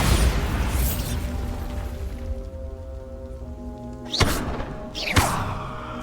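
A Bombarda explosion spell in the video game Hogwarts Legacy: a heavy boom that fades into a long ringing tail, then two sharp, close blasts about a second apart.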